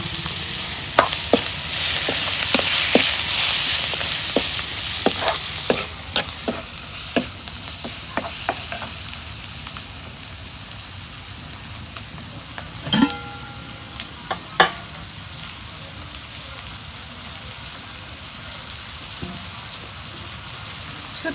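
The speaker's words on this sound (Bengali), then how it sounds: "শুটকি মাছ দিয়ে দিলাম তেলের মধ্যে" Dried fish frying in oil with spices, stirred in a pan: a loud, dense sizzle with repeated sharp scrapes and clinks of the spatula that fades to a quieter sizzle with occasional knocks.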